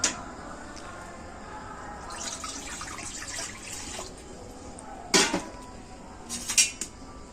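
Water splashes and trickles into a wok set on a stove, a soft running pour with a few sharper metallic clinks and splashes near the end, fairly quiet and close.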